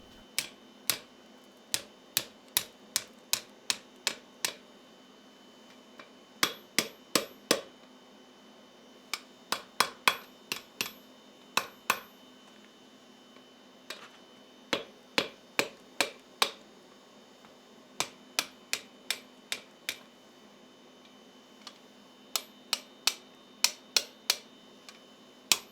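A hammer strikes a blacksmith holdfast on an anvil, sharp ringing blows in quick bursts of several hits separated by short pauses, clear and close.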